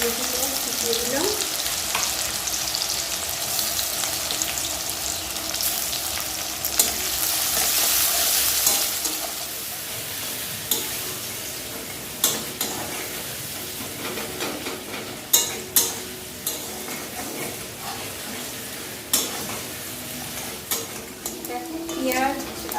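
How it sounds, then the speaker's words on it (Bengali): Onion, garlic, ginger and whole garlic cloves frying in a pan give a steady close sizzle, with scraping stirs and sharp clinks of a utensil against the pan growing more frequent toward the end. "পেঁয়াজ আর রসুন আদা সব কিছু দেখো এইভাবে আমি একটু ভেজে নিয়েছি"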